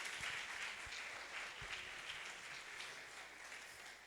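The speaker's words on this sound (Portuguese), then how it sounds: "Você que pode aplaudir o Senhor Jesus" A church congregation applauds in a dense, steady, faint wash of clapping, with a few low thumps underneath.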